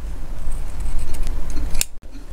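Scissors snip through interfaced linen fabric while trimming excess from a pair of baggy pants, a close run of crisp cutting strokes ending in a sharp final snap.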